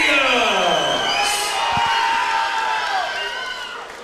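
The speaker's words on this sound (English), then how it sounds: "Both of these athletes have a pretty big crowd here, lots of support in the room" A crowd at a grappling match cheers and whoops in a large room, a steady roar of voices with scattered shouts, loud and close, fading slightly toward the end, with an announcer talking over it.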